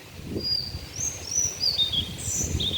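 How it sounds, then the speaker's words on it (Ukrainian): Birds call and chirp in the morning, thin high notes coming in short bursts over a soft low outdoor rumble, moderately distant, with no one speaking. "Це тільки зранку, так, співають пташки."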